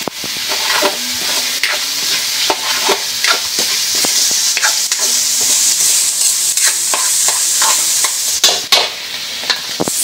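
Fried rice being stirred in a frying pan, loud continuous sizzling with quick repeated scrapes and clatters of the spatula throughout, close up and without talk.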